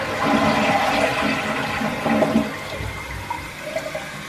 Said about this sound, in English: Now time for the flush.